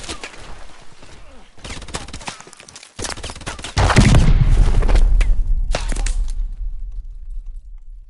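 Gunfire exchange in the Call of Duty: Advanced Warfare video game, with rapid overlapping shots that swell into a loud, dense barrage of cracks and booms midway before thinning out toward the end, with voices faintly in the mix.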